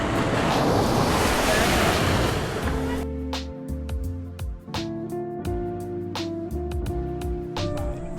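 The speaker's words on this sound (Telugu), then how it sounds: "మీరే చూస్తున్నారు కదా, ఇదే మార్బుల్ బీచ్." Waves at Marble Beach near Trincomalee, Sri Lanka, with white sand: a loud wash of surf and wind roar first, then quieter lapping water as the wind dies down, with no talking.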